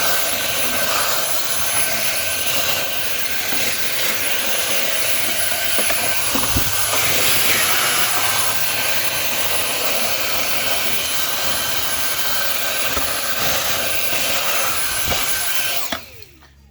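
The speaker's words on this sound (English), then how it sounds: "So here's a great way to use your Dyson." Loud, continuous whine of a Dyson vacuum cleaner sucking crumbs off a stove top, roaring close by with slight fluctuations before cutting off at the end.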